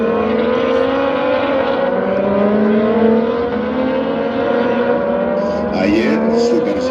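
Moto2 racing motorcycles scream past at the Cheste circuit, a loud sustained high-revving engine whine with rising and falling pitch from several bikes overlapping.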